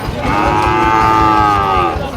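Cattle at a Shahiwal bull market low with one long, loud, sustained moo close by, lasting about two seconds.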